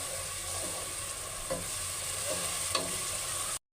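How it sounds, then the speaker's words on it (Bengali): Ground spice paste frying in oil for a country chicken curry, a steady close sizzle with occasional soft stirring scrapes, then an abrupt stop. "সেগুলো এখানে আমি দিয়ে দেব এটা একটু ভাজতে থাকবো কিছুক্ষণ"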